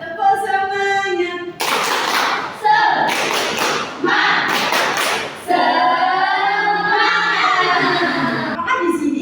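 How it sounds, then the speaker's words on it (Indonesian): An Indonesian fourth-grade class plays a clapping ice-breaker game, loud bursts of rhythmic hand claps coming in several blocks between short sung and spoken calls from children and teacher. "Tepuk semuanya."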